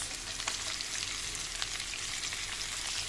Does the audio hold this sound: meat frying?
yes